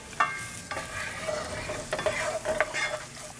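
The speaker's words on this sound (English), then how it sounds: "Let that come up, and then we'll add our onions and saute them." Onions sautéing in hot oil in a Ninja Foodi Smart XL grill, giving a steady close sizzle broken by a few louder crackles and scraping stirs, with no talking.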